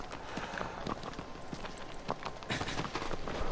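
Horse hooves in the video game Shadow of the Colossus clop along in a quick, uneven rhythm over a steady background hum, moderately loud and close.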